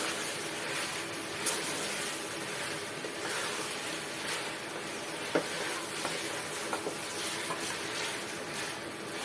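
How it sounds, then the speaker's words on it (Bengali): Fish pieces being mixed with spices in a hot pan for a North Bengal potato and fish dish: a continuous sizzle with soft scraping and stirring, and an occasional light knock from the utensil. "মশলার সাথে মিক্স করে নেব"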